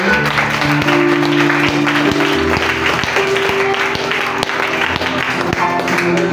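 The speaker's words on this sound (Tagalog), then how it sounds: "Palakpak diha sa Ginoo." A church congregation applauds, a dense steady wash of many hands clapping in a hall, with some voices and a sustained tone underneath.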